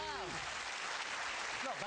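Studio audience applause on a quiz game show after a contestant takes £75,000, a steady wash of clapping under a voice talking at the start and end.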